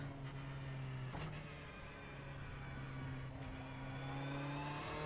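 Steady engine drone of a Ferrari 488 Evo race car in iRacing at the Hungaroring, holding a constant, even note throughout with no voices.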